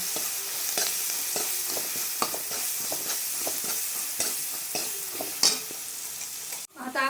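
Steady crackling sizzle of ground spice paste frying with cumin in a hot pan, punctuated by repeated scraping and stirring knocks, then a brief clatter at the end.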